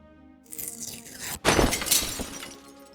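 Stained glass window shatters in the point-and-click game Deponia Doomsday, a sharp crash of breaking glass followed by a bright tinkling spill of shards, loud and alone after a short lead-in.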